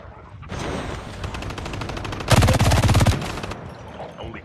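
Automatic gunfire in the mobile shooter Call of Duty Mobile: a rapid burst of shots, then a louder, closer volley in the middle that tapers into a few further rounds before quiet.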